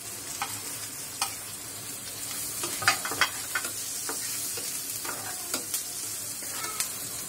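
Chopped chilies stirred into onions browned in oil, a steady close sizzle with scattered scraping strokes of a spoon against the pan every second or so, moderately loud, with no talking.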